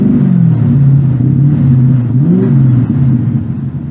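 A Chevrolet C4 Corvette engine, which has a speedometer fault and poor acceleration, is held at high revs with the pedal floored, giving a loud, steady, close-up drone whose pitch wavers and climbs slightly throughout.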